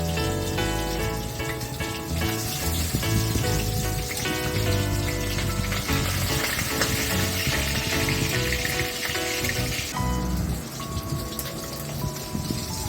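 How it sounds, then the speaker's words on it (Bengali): Large koi fish, two at a time, fry in hot oil, producing a loud, dense, continuous crackling sizzle like heavy rain that holds steady throughout. "যেহেতু অনেক বড় বড় কই মাছগুলো, তাই আমি দুটো করে করে ভাজছি।"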